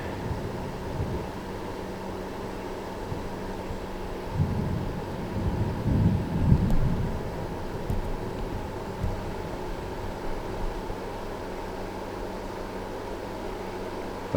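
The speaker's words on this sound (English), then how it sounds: "Thunder's still rumbling to my south." Low rumbling thunder from a distant storm a few miles south, swelling in the middle and fading, heard outdoors in Ohio before heavy tropical rain arrives, with a steady noisy background.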